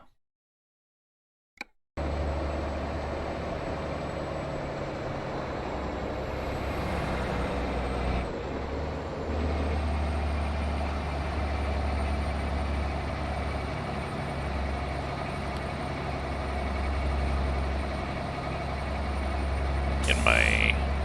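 A 285 horsepower truck engine in American Truck Simulator drones steadily at a low, even pitch after a brief silent start, with a sharp hiss of air release near the end.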